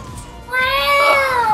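Cartoonish meows from enemy creatures in the Shantae and the Pirate's Curse video game: a short cry, then a louder, sustained rising-and-falling meow, loud and close, with no talk over it.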